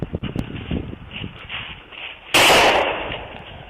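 Gunfire breaks out during a police shootout, with a loud sharp burst about two thirds through after rustling and movement, heard up close from body-worn equipment.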